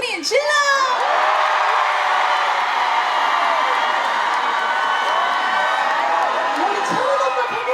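Large outdoor concert crowd at a rose festival opening show cheers, whoops and shouts continuously and loudly, with high yells and shrieks rising over a dense roar of voices.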